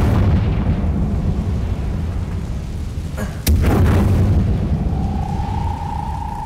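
Confringo explosive spell blast in Hogwarts Legacy, a single sharp loud burst landing midway through a heavy rumbling game soundscape, followed by a rising tonal whine near the end.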